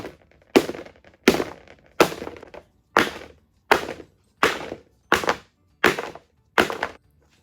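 Cake pans filled with butter pecan batter are banged down on a counter to knock out air bubbles: ten sharp, loud thunks at a steady, roughly once-per-second rhythm, each with a short ringing decay, and no talking.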